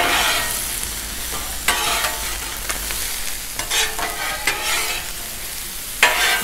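Vegetables sizzle on a hot Blackstone griddle with a steady, close frying hiss, broken by sharp metal spatula scrapes and stirring clanks at uneven intervals.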